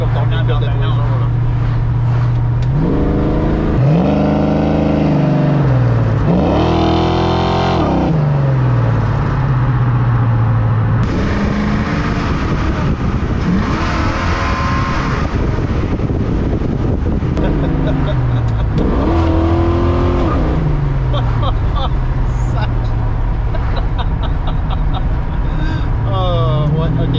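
A 1969 Chevrolet Camaro SS with a 502 engine and a four-speed automatic transmission revving hard in repeated rising and falling sweeps, loud and close, with people talking over it.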